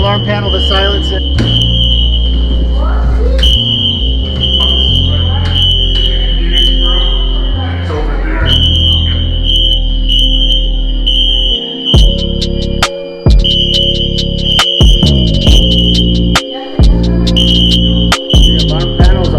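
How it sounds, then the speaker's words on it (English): A building fire alarm blares continuously in loud, piercing high pulses that fill the space, with a person talking over it and footsteps and handling noise mixed in. "we're gonna see if we can find the alarm panel to silence it."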